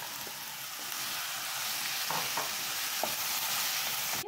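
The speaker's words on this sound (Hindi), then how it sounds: "इसमें मैं चिकन ऐड कर दूंगी और अच्छे से इसको भून लेंगे थोड़ी देर के लिए" Chicken fries in a pan with tomato, ginger and garlic for a South Indian chicken curry, giving a loud, steady close sizzle with a few light stirring knocks.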